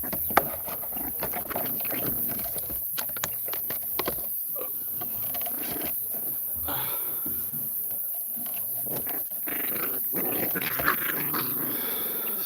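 Puppies growling while they play, a steady scuffle of small growls, patter and rustling that continues close by throughout, with no talking over it.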